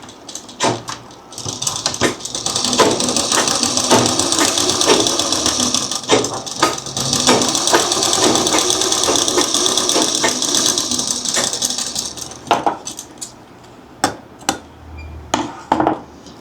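A sewing machine runs steadily as it stitches along a fabric edge, a continuous mechanical whir for about eleven seconds, then stops, followed by a few sharp clicks and handling knocks.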